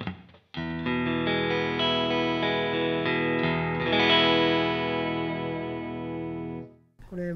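Clean electric guitar tone through a Headrush unit with light compression and gentle reverb, a sustained ringing chord that holds for several seconds and slowly fades, with a brief strum at the start and end and no talk.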